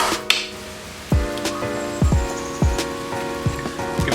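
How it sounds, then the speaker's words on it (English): Rain patters on a nearby surface, with heavy drops striking in irregular, sharp taps over a soft steady wash. "It's raining. I'm walking to the T. Today is a miserable day."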